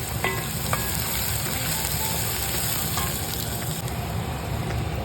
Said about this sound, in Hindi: अब ऑनियंस को हमको गोल्डन फ्राई करना है।